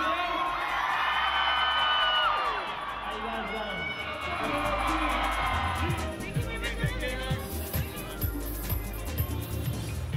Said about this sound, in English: But this is Lewis Hamilton's rookie year with the team and the crowd is going wild for the